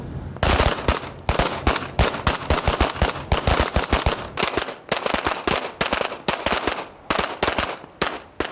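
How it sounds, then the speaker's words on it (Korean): Maritime police shooting practice aboard a patrol ship at sea produces rapid bursts of loud, close gunfire, shot after shot in dense runs with brief gaps between volleys. "해상 사격 훈련이다"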